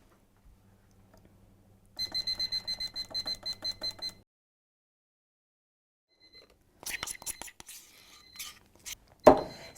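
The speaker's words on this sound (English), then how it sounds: "set the timer for 15 minutes and then just have a look back once the timer goes off" An oven timer beeps in a quick run of evenly spaced pulses, signalling baking mince pies are done, followed later by clatter and another burst of beeps.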